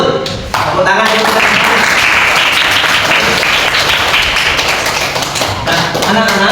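Children in a classroom clapping their hands during an Islamic studies lesson: loud, rapid, dense clapping from a group of kids, close by and sustained, with some young voices mixed in.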